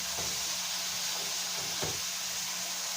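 Onions sizzling in a hot pan for cheese and chili enchiladas with chicken breast, a steady close frying hiss with a couple of soft thumps as pieces are dropped in.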